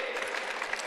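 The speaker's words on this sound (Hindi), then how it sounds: "चलो, मोहम्मद भाई के लिए जोरदार ताली बजा दो भाई" Brief burst of dense applause from a crowd at a yoga session, steady and moderately loud throughout with no speech over it.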